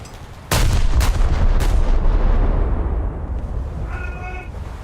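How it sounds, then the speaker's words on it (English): Shells from German battleships burst against a ship's hull in a naval combat game. One sudden, heavy detonation hits, then a dense, booming roar rumbles on and slowly fades, with a faint, thin tone near the end. "It's shells are detonating on the hull."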